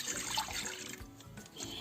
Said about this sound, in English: So here I pour the milk,